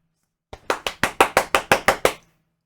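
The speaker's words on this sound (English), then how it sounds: "That was them clapping." Clapping from a live studio audience on a comedy podcast set, about ten crisp, evenly spaced claps over under two seconds, close and moderately loud, sounding more like a single pair of hands than a full crowd, with no voices.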